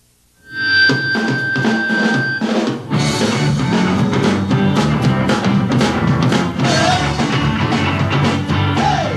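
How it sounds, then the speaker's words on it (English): 1960s psychedelic rock from the Toronto band the Ugly Ducklings plays loud and continuous, with steady drums, electric guitars and organ-like tones filling the mix after a brief quiet start. "This is the sound of 60s psychedelia, Hogtown style, the Ugly Ducklings"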